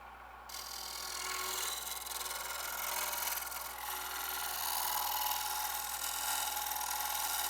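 Negative rake scraper cutting wood end grain on a spinning lathe, a steady close rasping hiss over a low constant motor hum, continuing without pause.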